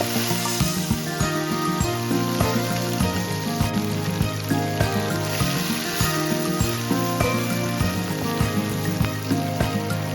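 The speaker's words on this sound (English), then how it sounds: "Add the kangkong stems first and stir fry for about 30 seconds." Kangkong (water spinach) stems and garlic stir-frying in hot oil in a pan, a steady dense sizzle running the whole time with bursts of crackle and the knock of a utensil against the pan.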